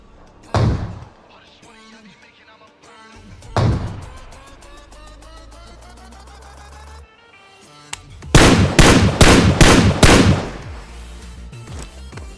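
Gunfire in a BGMI battle-royale fight: two isolated sharp shots early, then a rapid string of shots in quick succession, loud and close, with a voice talking in between.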